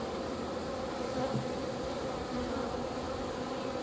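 Dense buzzing hum of many honeybees festooning and building comb inside a large beehive, steady and close with no voices.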